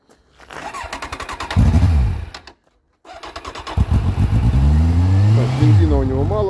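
Kawasaki Z1000 motorcycle: after a brief pause, the starter cranks and the engine catches, firing up with rising revs that settle into a steady, close running rumble with a few throttle blips. Faint talk sits under the start.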